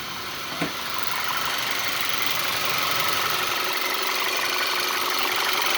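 Audi B8 engine idling smoothly after a PCV valve replacement, a steady even hum with a faint click near the start and no audible shudder.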